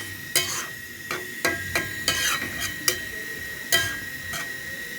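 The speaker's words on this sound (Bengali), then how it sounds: "মশলা কষানো হচ্ছে, নারকেল, চিংড়ি মাছ," A spice paste with coconut and prawns is stir-fried in a pan for a raw jackfruit curry, with a soft sizzle under sharp, spaced spatula scrapes and knocks, close and without voices.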